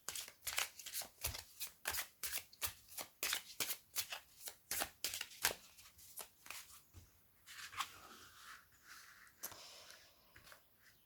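Oracle cards are shuffled in a rapid run of crisp riffling slaps and flutters, fairly close and steady for several seconds before slowing into a few scattered softer card sounds near the end, with no talking.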